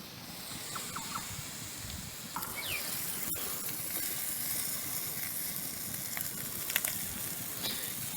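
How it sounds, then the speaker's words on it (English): Freshwater prawns laid shell side down over hot coals, giving a soft, continuous crackling sizzle with occasional small pops, quiet and steady throughout. "I'm going to take them to the fire just like that. And over the hot coals."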